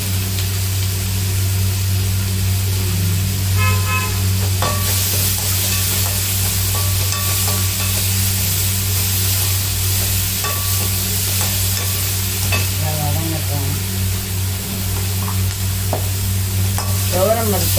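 Ingredients sauté with a little salt in a pan for a sambar-style dish, a steady close sizzle running throughout while a spoon stirs and scrapes at intervals, with no talking.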